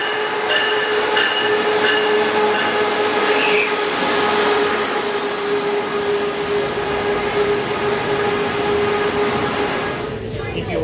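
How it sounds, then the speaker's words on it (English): Loud, steady rumble of a full passenger train running on rails, heard from inside a car, with a sustained whining tone and faint wheel squeal throughout, occasional muffled voices in the background. "the train is pretty full"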